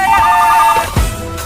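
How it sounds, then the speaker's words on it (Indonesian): Several office telephones ring in a film scene, a bright warbling electronic ring pulsing steadily for most of the moment before cutting off, followed by a low thud and faint room noise. "Tapi kemudian satu persatu telepon berdering."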